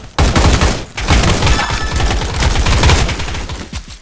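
Rapid gunfire in a Roblox combat arena game, bursts of fast, crackling shots that run almost without a break, loud and close, with a brief pause near the start and no speech.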